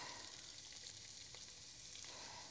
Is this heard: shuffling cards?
no